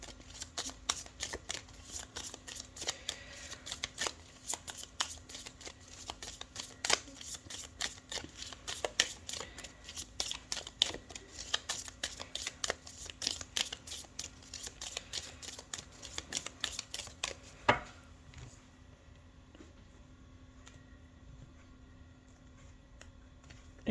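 Tarot cards are shuffled and drawn in a steady stream of soft riffling and flicking for about eighteen seconds, close and fairly quiet, before settling into a faint rustle with no talking.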